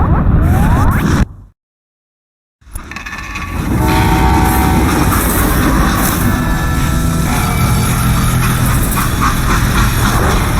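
A train running in the video game Call of Juarez: Gunslinger, a loud rushing rumble of rolling cars that drops to silence for about a second, then returns and holds steady.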